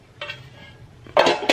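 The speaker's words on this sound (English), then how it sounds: "We're gonna use these pans." Metal baking pans for no-knead bread are handled and set down, producing a few sharp clanks and rattles, one early and a louder cluster near the end, with quiet between.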